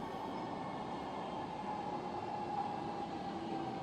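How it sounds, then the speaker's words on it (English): A driverless light rail train rumbles steadily along the track in the docks, a continuous hum with a faint high whine, close and unbroken, with no voices. "These driverless trains connect the whole area and are a delight to use."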